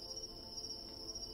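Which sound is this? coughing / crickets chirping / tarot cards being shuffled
crickets chirping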